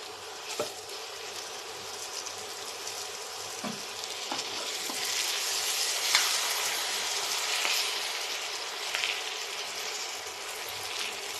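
Ground paste of roasted peanuts and garlic heating in a pan gives a steady, close sizzle with an even hiss throughout and a few faint scrapes, without any speech.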